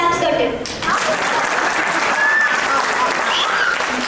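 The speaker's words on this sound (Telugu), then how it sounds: "క్లాప్స్ కొట్టు" A room full of guests at a first birthday party claps steadily and loudly, with voices talking and calling out through the applause.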